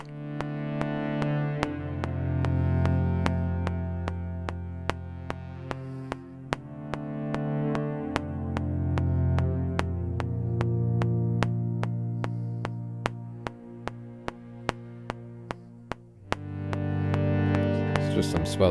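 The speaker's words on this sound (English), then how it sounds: "from the Foundations synth bass, they have a preset called Swelling Organs" Sustained swelling organ-like synth pad from the Foundations synth bass Swelling Organs preset, forming the bed of a scoring track; warm low chords swell and change every few seconds alongside steady rhythmic clicks, with a brighter swell near the end.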